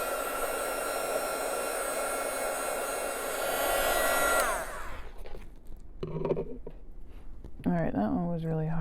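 A hair dryer blows a loud, steady whoosh over a watercolor rose painting, then cuts off partway through, after which a person speaks briefly nearby.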